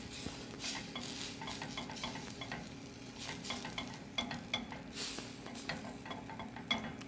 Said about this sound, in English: Give that a stir to stir in that PB2.